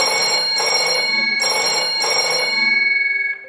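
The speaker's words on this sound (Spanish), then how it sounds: "Lo que menos pensaba era el teléfono ni me acordaba que estaba aquí" A telephone ringing indoors, loud and near, in bursts of trilling bell-like rings with short pauses between them, the last ring fading out, with no voices.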